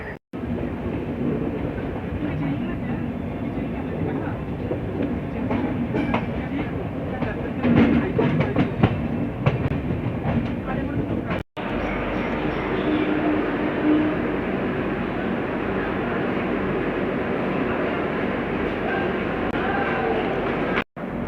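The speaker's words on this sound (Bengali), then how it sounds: "কিন্তু ট্রেন 15-20 মিনিট দেরিতেই ঢুকছে" Coromandel Express passenger train running into Santragachi junction, a steady loud rumble of wheels and carriage noise throughout with a brief cut midway, some voices faintly under it.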